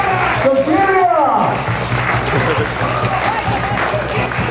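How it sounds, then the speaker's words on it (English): An audience applauds at a British equipped powerlifting championship. The clapping is loud and sustained, and a voice talks over it. "Give a round of applause!"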